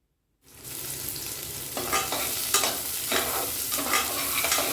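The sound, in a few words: shallots added to frying chili and garlic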